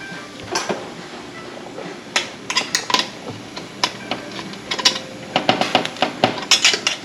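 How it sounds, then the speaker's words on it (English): A metal lid being worked off a pot of shrimp, with a string of sharp clinks and clatters, loud and close, coming in irregular bursts and no talking. "I'm going to try to take the lid off this thing."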